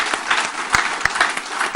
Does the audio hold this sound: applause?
yes